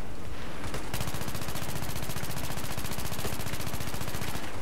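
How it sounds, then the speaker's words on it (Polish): Gunfire in Battlefield 3 on the Metro map, a rapid sustained automatic burst of evenly spaced shots, loud and close, after a brief quieter start. "Strzelam na ślepo, wiesz?"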